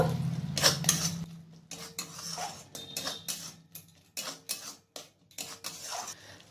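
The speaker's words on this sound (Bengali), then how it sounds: "এরপর ভালো করে মশলাটাকে মিডিয়াম টু লো আঁচে ভালো করে কষিয়ে নেব।" Ground spices, dry-roasted beforehand, being stirred in a pan over medium-low heat for a soybean curry, with intermittent scraping and clinking of a spoon against the pan, moderately close, no voices.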